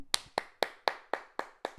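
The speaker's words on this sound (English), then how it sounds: "Everybody, round of applause for Keke Palmer, SZA, and Issa Rae." Seven sharp, evenly spaced hand claps ring out in quick rhythm, fairly quiet and close, as applause is called for an audience.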